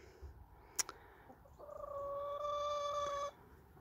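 A rooster in a poultry yard, the young cock showing long tail hackles, lets out a sustained crowing call lasting about two seconds, loud and fairly near, with a brief sharp sound just before it and no talk.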